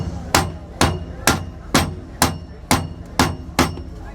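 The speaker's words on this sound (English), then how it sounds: "So we'll grab a rubber mallet and get these out." A rubber mallet knocks worn, gunked-up Lippert slide-out gear pack parts loose on a 2019 Grand Design RV. Eight loud, steady, evenly timed blows land close by with a dull thud.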